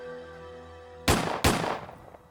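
Two sharp revolver shots from a .38 in a hotel lobby exchange of gunfire, loud close blasts with short decaying tails, following a low steady hum.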